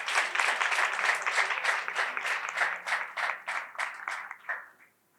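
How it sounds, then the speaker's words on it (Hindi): A church audience applauds during a televised service, dense clapping that stays strong for several seconds, then thins into scattered claps and fades to quiet. "अपने डैडी के लिए जोरदार ताली बजाइए"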